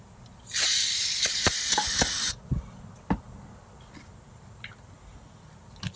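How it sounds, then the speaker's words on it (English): Brake cleaner sprays from an aerosol can onto a wheel in one loud, steady hiss of nearly two seconds, then stops, followed by a few scattered scraping clicks and taps. "Let's see what happens if we put more brake cleaner"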